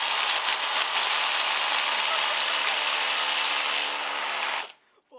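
Continuous power-tool drilling into wood, a broom-handle plug set in a hole in a boat, runs steady and close for several seconds, then cuts off abruptly.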